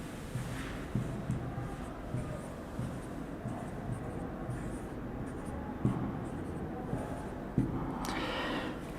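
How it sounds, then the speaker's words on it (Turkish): Quick writing on a board during a math lesson, a continuous scratchy stroking with occasional sharper taps as the marker or chalk lifts and lands, fairly close and alone. "Hızlı bir şekilde yazıyorum hemen"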